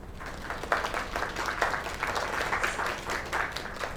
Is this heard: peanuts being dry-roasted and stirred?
no